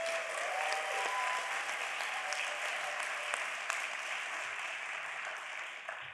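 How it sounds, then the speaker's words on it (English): Audience applauding at the 2024 Santa Monica State of the City event, a steady wash of clapping from a large indoor crowd that holds even throughout and fades slightly at the end. "Please give her a hand of applause."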